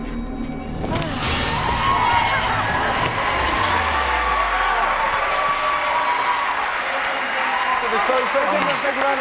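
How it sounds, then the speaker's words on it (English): Audience applause fills a televised magic competition stage show, a dense steady wash of clapping and crowd noise running throughout, loud and sustained with cheering mixed in. "So give them a big round of applause"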